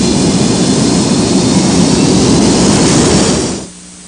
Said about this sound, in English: The DC-9 has engine thrust reversers, allowing it to power back from the gate.